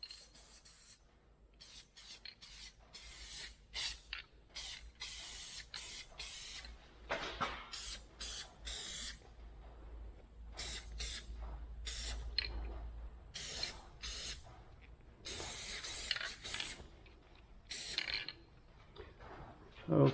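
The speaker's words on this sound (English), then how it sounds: "So it says spray an even coat on both surfaces" Spray adhesive hisses from an aerosol can onto car dashboard surfaces during a vintage air conditioning dash modification, in a series of short and longer bursts with quiet gaps and faint handling noises between them.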